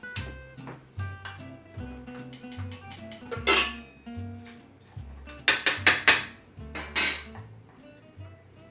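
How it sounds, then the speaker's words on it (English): A spoon scrapes and clinks against a cooking pot while starch and sugar are stirred into strawberries, giving irregular metallic taps and knocks at moderate level, with low tonal kitchen hum beneath. "So I'm going to mix this into the strawberries"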